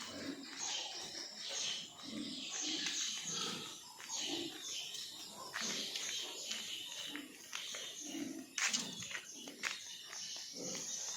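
Pigs on a farm grunting and snuffling in irregular bursts at moderate distance, fairly quiet, with some other animal noises and faint voices in the background.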